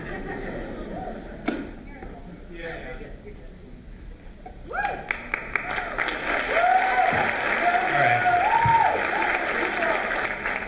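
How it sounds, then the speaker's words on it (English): An audience claps between pieces at a Writers Week literary reading. The applause rises about halfway through and grows louder and fuller toward the end, with voices talking underneath. "Are we clapping in between pieces as just an unofficial thanks for doing that"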